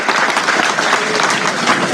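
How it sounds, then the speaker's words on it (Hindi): Dense, steady applause from a large rally audience, continuous and close, with crowd noise mixed into the clapping throughout. "एक ताली लगाएं।"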